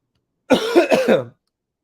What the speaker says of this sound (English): My apologies with the coughing and all that shit.